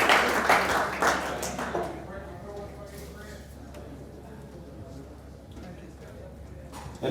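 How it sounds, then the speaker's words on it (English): A crowd at a mixed martial arts weigh-in applauds the main event fighters, claps rising loudly at first and then thinning to scattered, fainter clapping and murmur. "How about a round of applause for these two main event fighters"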